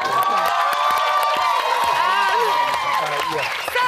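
Studio audience applause and cheering from a game-show crowd, a dense steady wash of clapping with shouts and whoops layered throughout, loud and sustained from start to finish.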